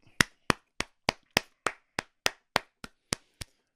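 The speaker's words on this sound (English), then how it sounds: "Round of applause." Single person clapping, eleven sharp evenly spaced claps at a steady rhythm, close and alone, offered as a round of applause after Manchester United beat Arsenal in an FA Cup third-round tie.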